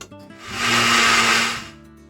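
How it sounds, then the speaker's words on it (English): A countertop blender purees ingredients for albondigas, a traditional Mexican meatball soup, with a loud steady whirring motor that ramps up, holds for about a second, then winds down. "I'd have to do a little bit at a time in our blender."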